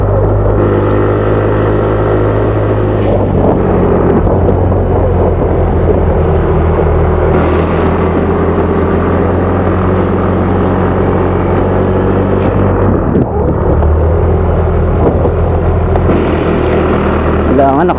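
A motorcycle engine labours loudly and continuously while climbing a steep uphill road toward a high point, droning close with shifting pitch and strong wind buffeting.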